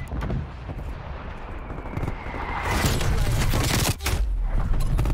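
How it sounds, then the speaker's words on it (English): Artillery strike in the video game Call of Duty Black Ops Cold War: a dense, continuous roar of rumbling explosions and crackling blasts that swells midway and stays loud, with a brief dip before resuming. "Reed requesting artillery strike."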